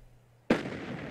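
A single grenade explodes in an online shooter game, a sudden loud blast that cuts in midway and leaves a broad rumbling tail of debris noise.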